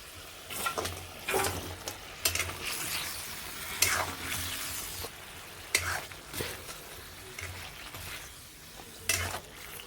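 Meat being stirred into a fried spice masala in a pan, soft background sizzling broken by repeated scraping and stirring bursts, close and uneven in rhythm, without speech.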